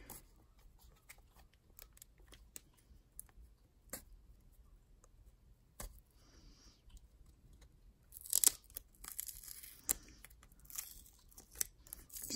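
Taped card packaging being cut open: faint, close snips, crinkles and small tearing sounds scattered irregularly, getting a little busier with a brief louder rustle of tape near the end.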